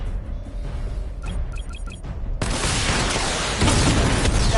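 Missile barrage in the Batman: Arkham Knight video game: a few quiet beeps, then a sudden loud burst of rapid explosions that continues as a dense, rumbling roar.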